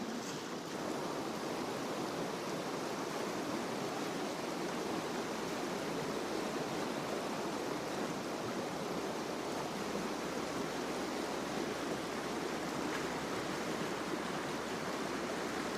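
The Lepenc river at Firajë rushes past in a constant broadband roar, steady and unbroken, with no talk over the flowing water.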